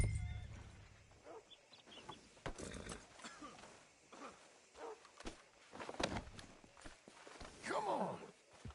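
Horse hooves clip-clop in Red Dead Redemption 2, an irregular series of sharp hoof knocks alongside occasional snorts and other game sounds at a low level.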